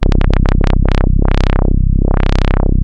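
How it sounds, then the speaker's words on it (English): A loud synthesized tone from UVI Rumble, an LFO with an envelope on its rate making an exponentially decaying sine wobble: pitch sweeps up and down rapidly at first, then slows into long, wide swoops, steady in volume throughout. "we can drag this envelope to the rate of this LFO and get an exponentially decaying sine wave"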